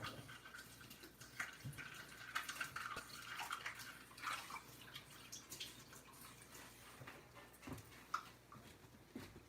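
Water runs and splashes as a 3/4 measuring cup that held applesauce is rinsed out in a kitchen sink, a steady close wash with scattered drips and clinks and no talking.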